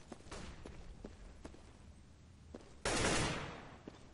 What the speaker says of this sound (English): Yeah, it's an AWP.